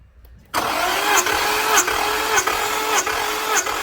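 An Infiniti Q70 engine with VVEL cranks on the starter during a compression test. The cranking starts abruptly after a short silence and runs close and loud, with a rhythmic pulse about every 0.6 seconds and no talking.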